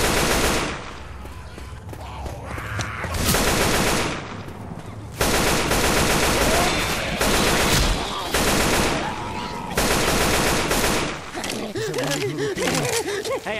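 Sustained loud automatic gunfire in the zombie shooter Left 4 Dead 2, long dense bursts separated by short pauses, close and continuous, with voices talking intermittently over it.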